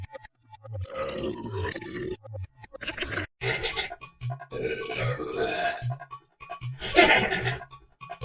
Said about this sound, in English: Belch is another word for burp.